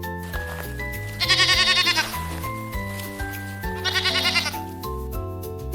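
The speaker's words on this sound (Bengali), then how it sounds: "ছতে ছাগল, ছাগল ছানা" A goat bleats twice, clear and close, each a wavering, pulsing cry about a second long. The two cries stand out over a background of steady musical tones.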